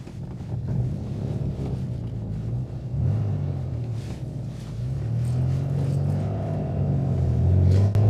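A Rover P6 2000TC engine revs up through the gears from inside the car, a low rumbling drone that rises and falls with each shift and grows louder toward the end.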